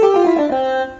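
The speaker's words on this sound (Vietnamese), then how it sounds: "ấn số 3 là tiếng guitar điện." An electric guitar voice on a Casio CT-655 keyboard plays a single sustained note with rich harmonics and a slight bend, close and loud, fading after about a second.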